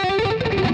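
Metal electric guitar on the bridge pickup, played with palm muting, a short burst of bright, heavily distorted chugging notes, loud and alone.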